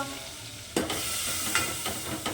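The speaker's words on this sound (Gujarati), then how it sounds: "આમાં હળદર નાખીને ખાલી વઘાર જ કરું" Hot oil sizzles steadily with turmeric as a tempering for dal while a spoon stirs, adding a few sharp scraping clicks.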